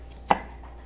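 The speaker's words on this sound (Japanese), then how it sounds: "で葉っぱはこうザクザクっと" A single crisp knife chop through vegetable leaves on a wooden cutting board, one short sharp stroke near the mic in an otherwise quiet kitchen.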